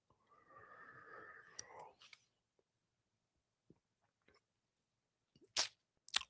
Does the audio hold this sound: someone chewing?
yes